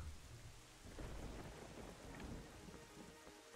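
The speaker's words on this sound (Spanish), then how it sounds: "¿He tenido la suerte de que se ha puesto a llover justo?" Rain pouring and thunder rumbling in Zelda: Twilight Princess HD, a dense hiss of rainfall with deep rolling thunder swelling midway, fairly quiet and with no voices.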